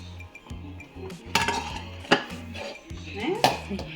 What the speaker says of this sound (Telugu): ఇప్పుడు కలుపుకుంటూ ఉండాలి లేకపోతే అడుగంటూ పోతుంది